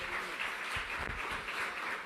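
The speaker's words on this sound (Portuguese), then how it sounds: "dê um aplauso ao Senhor Jesus" A church congregation at a Sunday service applauds, dense continuous clapping from many hands filling a large room, steady and moderately loud throughout.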